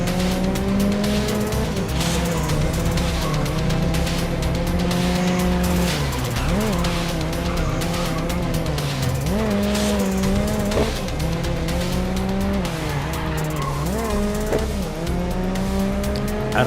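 Race cars in the video game Grid Legends: a loud continuous engine drone with rising and falling revs, repeated tire squeals and skids through drifting corners, with a faint voice underneath.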